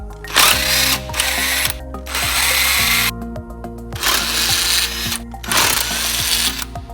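Power tool such as an impact driver or drill working on the AC compressor pulley and bracket of a Honda Civic EG, in loud close bursts of about a second separated by short pauses, with no talk.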